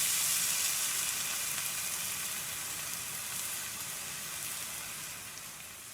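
Pizza cooking in a pan, a steady close sizzle and crackle of hot fat that fades gradually over several seconds, with no voices.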